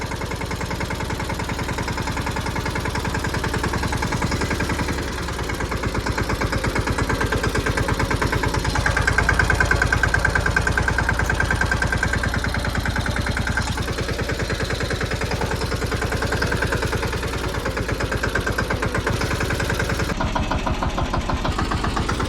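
A tractor engine runs steadily on a rural road while out spraying a cotton field, a loud, close, rhythmic diesel chug that holds an even pulse throughout with a slight change in load partway through.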